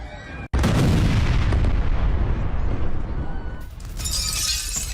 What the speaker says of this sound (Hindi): हैमर बमों से हमला करके रूस के सैन्य बेस को ही यूक्रेन ने यहां पर तबाह कर दिया है